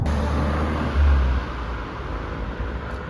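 A Ford Focus RS Mk3 pulls away on the road, its engine giving a low rumble that swells briefly near the start and then fades steadily as it moves off, with no voices.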